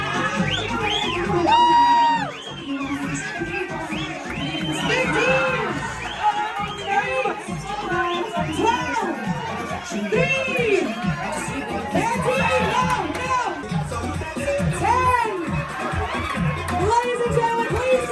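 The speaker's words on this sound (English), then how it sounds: "Put your hands together for the ladies' parade" Cruise ship audience applauding and cheering a ladies' parade at a gameshow: loud, continuous whoops, shouts and clapping with excited chatter, sustained throughout at close range with frequent high-pitched cries.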